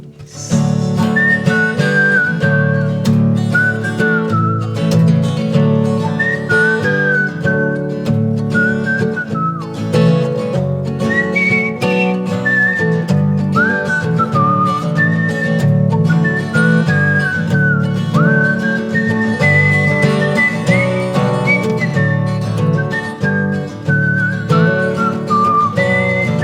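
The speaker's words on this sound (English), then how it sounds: "Does anybody know how hard a whistle solo is?" A melodic whistled solo carries over strumming acoustic guitar in a folk-style acoustic song, steady and prominent throughout with no talking.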